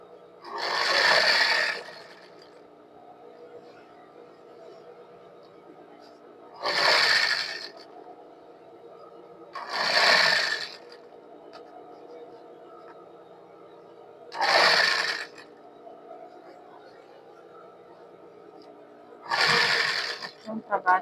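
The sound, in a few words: sewing machine stitching a coat seam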